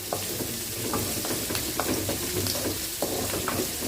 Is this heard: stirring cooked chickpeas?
yes